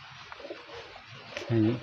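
A Murshidabadi Giribaz pigeon gives a brief, fairly close coo near the end, after quiet rustling and faint background noise.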